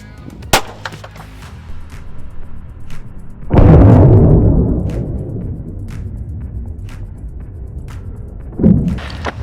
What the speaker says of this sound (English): All right, last shot for 9mm, third shot.